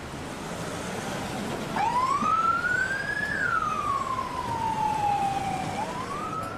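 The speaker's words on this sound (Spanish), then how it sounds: "sale ambulancia hacia el barrio del Túnel" An ambulance siren wails steadily, one long rising and falling tone that sweeps up and then slowly down, fairly loud and sounding alone against a low street rumble.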